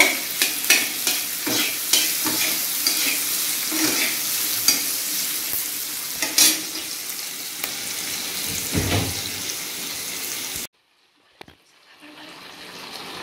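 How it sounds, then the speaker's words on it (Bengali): Food lightly sautéed in a pan, a steady close sizzle with repeated scraping and tapping of the spatula, ending abruptly before a few faint clinks. "হালকা সতে করে নেব"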